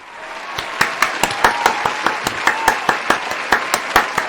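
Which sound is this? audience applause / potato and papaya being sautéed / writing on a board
audience applause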